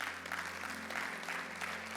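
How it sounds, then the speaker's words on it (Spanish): A congregation at an evangelical church service applauds for the Lord, a continuous, moderately quiet patter of many clapping hands that holds steady from start to finish over a faint electrical hum. "¿Cuánto dan un fuerte aplauso al Señor?"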